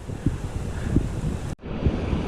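Rushing creek water at a hydro plant in Bishop, California, makes a steady, close broadband roar with no voices, briefly cutting out for a split second partway through before the flow noise resumes.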